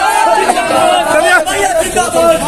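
A large crowd is gathered at the Ara civil court to see Pawan Singh, and their dense, continuous chatter and babble fills the air close by with no pauses.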